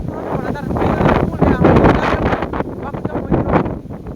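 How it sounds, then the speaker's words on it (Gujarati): Strong gusting wind from a sudden summer storm on a rooftop terrace, roaring steadily and buffeting close to the microphone with rising and falling surges. "અને આ પવન જ છે"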